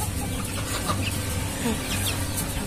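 Broiler chickens clucking softly nearby on a small farm, with a chick peeping now and then among them.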